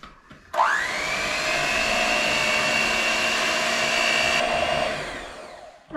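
An electric mixer whirs steadily as banana pudding mixture for a camping dessert is beaten until thick, switching on abruptly with a rising whine, running evenly for several seconds, then winding down.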